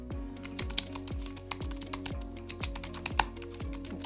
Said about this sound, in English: So I'll just simply type here.